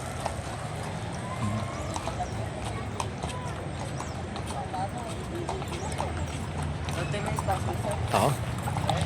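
Horse hooves clip-clop steadily on a hard surface outdoors, mid-distance and fairly clear, while people talk throughout.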